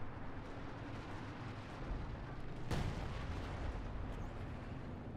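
Tank destroyers and a Panzerwerfer opening fire in Company of Heroes 2, a loud booming volley near the middle over a continuous rumbling battlefield din with distant explosions.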